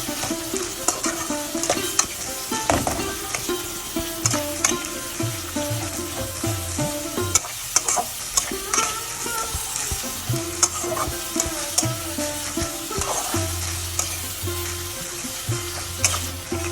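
Onion paste fries in a pan with salt for a goat head curry, giving a steady close sizzle broken by repeated scraping strokes and clanks from stirring, with no talking.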